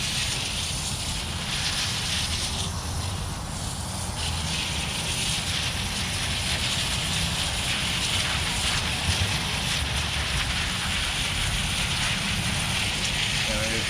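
Garden hose spraying cool water outdoors to rinse a full set of neon rainbow tie-dye sheets, a steady close hiss and splatter with no pauses.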